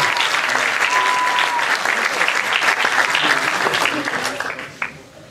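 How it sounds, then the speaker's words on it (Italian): An audience at an anniversary celebration event in Lecco applauds in dense, sustained clapping that tapers off and fades near the end. "facciamogli un applauso"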